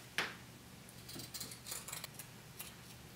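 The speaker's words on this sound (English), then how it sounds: "So I'm just going to cut out one more of those." Scissors cutting a piece of fabric for a sewing project, a few quiet snips and a crisp cut near the start followed by soft rustling, close and faint.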